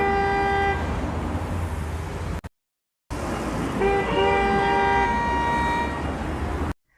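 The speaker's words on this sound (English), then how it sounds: "Let's duplicate the high pitch horn, maybe reverse it so it doesn't sound identical." A synthetic high-pitched horn effect blares in two sustained bursts, steady and loud over a dense noisy bed, with a short gap of silence between them and an abrupt cutoff at the end.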